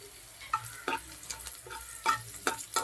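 Curry leaves and turmeric fry in hot oil for a mixed pickle, with soft sizzling under a few sharp stirring scrapes and clinks in the pan, close and fairly quiet.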